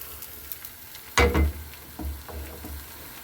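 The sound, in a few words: kukuşa dough cooking on a low stove burner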